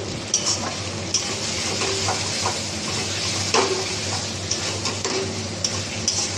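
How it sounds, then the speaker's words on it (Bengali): Chicken for khichri frying in a pan, a steady close sizzle with repeated light clicks and scrapes of a spatula stirring the meat, continuous throughout with no talking. "তো মাংসটাকে ভালো করে একটু কষে নেব"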